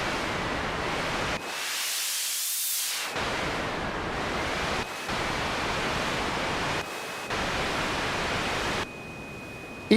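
Broadband hiss from a Lo-Fi noise and effects processor app on an iPad, a steady loud wash of noise whose tone shifts as a color control is swept, briefly darkening and dropping out, with a faint whistling tone riding on top.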